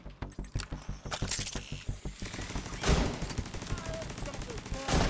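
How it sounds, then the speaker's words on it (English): Rapid gunfire in The Division 2 video game, dense bursts of loud sharp shots in quick succession with mechanical clatter, and a voice talking over part of it. "And then we go back to the marksman rifle, this idea of just one shot, one kill to the face, eliminated."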